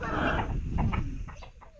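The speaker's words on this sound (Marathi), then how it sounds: "बापरे किती ओरडतात कोंबडी" Chickens cluck and squawk close by in a short, busy burst of overlapping calls.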